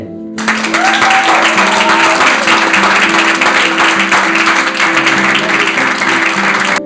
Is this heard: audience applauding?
yes